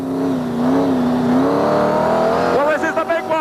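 A Brisca stock car engine revs hard and steady on a racing track, rising in pitch, then shifts abruptly into a rougher, fluttering note near the end, loud and close.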